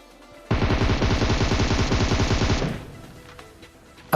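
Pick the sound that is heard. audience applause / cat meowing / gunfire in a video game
gunfire in a video game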